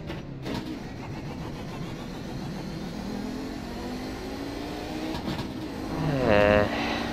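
The engine of an Audi 90 GTO race car in iRacing at the Daytona Road Course revs steadily under throttle, with a rising, whining pitch that builds louder near the end.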